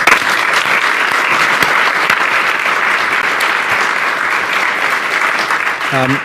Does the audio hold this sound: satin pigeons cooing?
no